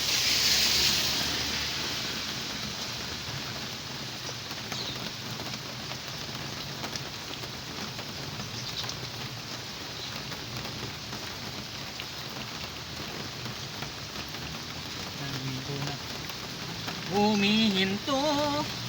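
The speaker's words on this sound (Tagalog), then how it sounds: "Humihinto na ang ulan, sana'y tumigil na" Steady rain patters and hisses continuously on a surface, with a few brief tonal sounds near the end.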